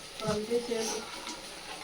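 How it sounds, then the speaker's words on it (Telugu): Spices for a tadka sizzle in hot oil in a home kitchen, a soft frying hiss with a brief stir. Someone talks over it the whole time. "తాలింపు"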